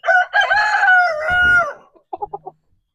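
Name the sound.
chickens clucking, Easter egger and Brahma cross hens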